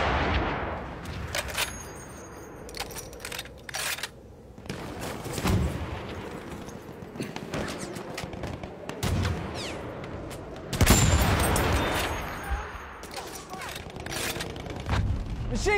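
Machine gun fire rattles in bursts amid booms and explosions on a video game battlefield with objectives to capture, loud and dense throughout, with occasional voices mixed into the chaos.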